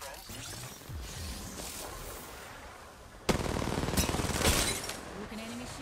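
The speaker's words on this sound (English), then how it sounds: "I am taking fire, friends." Automatic weapon fire in the Apex Legends battle royale game, with bursts crackling through a busy mix that grows loudest and densest midway before easing off, while someone talks over the action.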